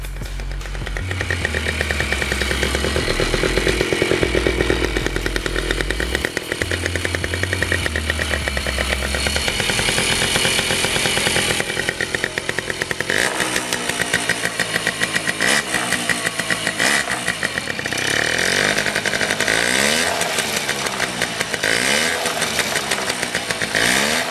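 A freshly rebuilt Derbi Variant moped engine running after a hard start, its buzzing two-stroke note loud and close, with throttle blips rising and falling in pitch through the second half.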